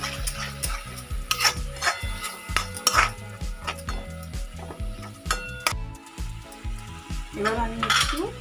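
Poppy seed paste is stirred into a pan while cooking egg green queen, with a utensil scraping and clinking rhythmically against the metal over a soft sizzle.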